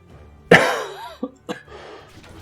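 A harsh, growling cough bursts out from a large fat ghoul in Stoneshard, followed by two shorter coughing grunts, close and loud against a quiet background.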